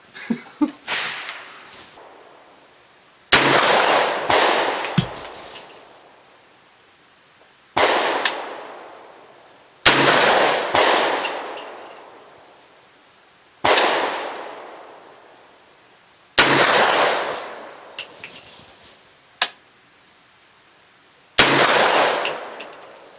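Loud rifle shots from a Doublestar ARC 300 firing Hornady Black 208 grain ammunition at a range, about eight sharp cracks spaced a few seconds apart, each followed by a long echoing decay outdoors.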